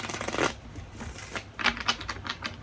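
Tarot cards are shuffled close up in quick riffling bursts, with soft papery flutters and short pauses between them.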